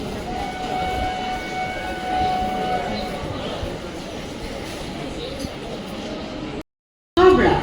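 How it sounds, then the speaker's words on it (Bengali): A Sealdah local train pulls into platform 4 at a hot, crowded station, a steady mechanical rumble and metallic screech running throughout beneath a murmur of voices, with a brief gap of silence just before the end. "শিয়ালদাহ লোকাল 4 নম্বর প্ল্যাটফর্মে আসছে।"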